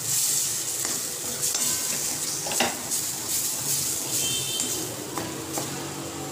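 A spoon stirs a gram flour, milk and coconut mixture in a hot pan for a sweet, scraping and swishing steadily over a constant sizzle, near and moderately loud.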